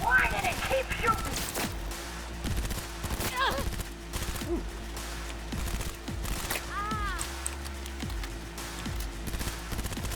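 Gunfire in the video game Cyberpunk 2077, scattered shots and bursts at moderate level amid busy game sounds, with a person talking over it.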